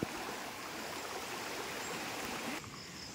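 Strong stream current rushing past on a farm, a steady broadband wash of flowing water that stays even throughout, fairly soft and with no voices.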